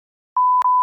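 Censor beep: a steady pure electronic tone that starts after a brief silence and runs on with a tiny break, loud and close, with no speech audible over it.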